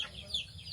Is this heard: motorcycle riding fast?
no